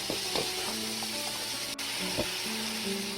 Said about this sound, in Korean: 팬에 기름을 두르고 파와 양파와 마늘을 넣고 단맛이 나게 볶아줍니다.